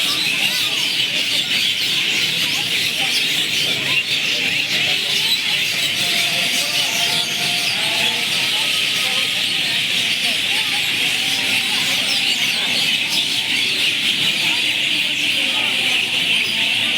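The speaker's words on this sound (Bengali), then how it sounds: "সুন্দর পাখির আওয়াজ হচ্ছে" Birds sing outdoors in the flowering temple garden at Belur Math. A steady, fairly loud chorus of high chirps fills the whole stretch while people talk nearby.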